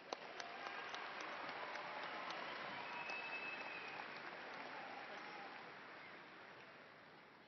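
An audience at a university commencement applauds graduates, a broad, steady wash of clapping from a large crowd heard at a distance, fairly faint, gradually tapering off toward the end.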